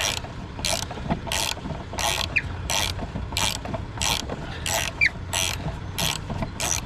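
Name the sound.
wrench turning a tight bolt on a vise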